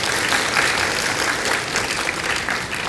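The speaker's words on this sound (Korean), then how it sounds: "박수 한번 쳐드리고요" Audience applause at a citizens' forum, a steady dense wash of clapping from a crowd that holds for the whole stretch without letting up.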